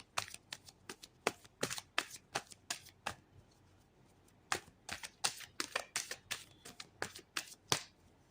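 Tarot cards being shuffled during a reading, a rapid series of crisp riffling and flicking bursts with a brief pause in the middle, close and fairly quiet with no talking.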